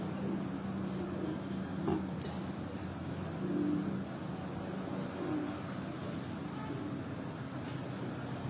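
Pigeons coo softly on a rooftop loft, low repeated rolling coos in short bursts, fairly faint amid background hum and distant traffic.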